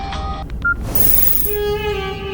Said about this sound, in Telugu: ఫోన్ అండి.